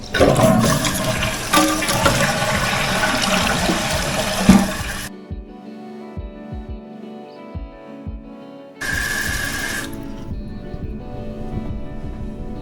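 Water rushes loudly as a toilet flushes, then the tank refills through a newly replaced fill tube with a quieter steady trickle, followed by another burst of running water.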